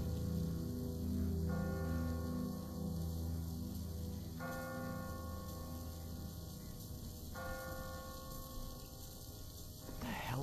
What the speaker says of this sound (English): Ask not for whom the bell tolls.